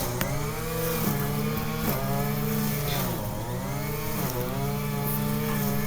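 A lawnmower runs nearby outside a house, a steady buzzing engine drone whose pitch rises and falls as it works, fairly prominent throughout with no talking.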